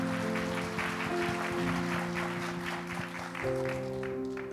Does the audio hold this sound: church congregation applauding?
yes